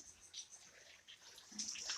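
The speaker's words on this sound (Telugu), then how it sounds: "నీళ్ళు ఇటు పక్క నుంచి వస్తున్నాయి ముందు పక్క నుంచి వస్తున్నాయి వెనక పక్క నుంచి" Stormwater floods into a house at night, a faint, steady watery wash and trickle running through the whole stretch with no one speaking.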